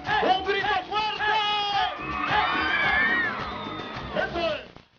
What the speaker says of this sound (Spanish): Un grito fuerte.